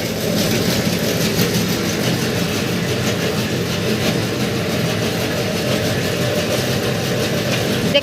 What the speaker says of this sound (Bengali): এই যে চালু হয়ে গেছে মিক্সার মেশিন